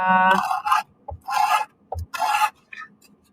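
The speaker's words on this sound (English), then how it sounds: "just sand the one that's sticking out until it's not sticking out anymore" Sandpaper rubbed against a wooden piece to even its sides, several short rasping strokes in a loose rhythm, close and clear, with a couple of light taps between strokes.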